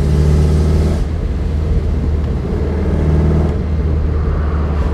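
A 1963 Porsche 356 B T6 Cabrio, tuned to about 160 hp, drives along with its engine droning loud and steady throughout, the pitch shifting slightly as it pulls.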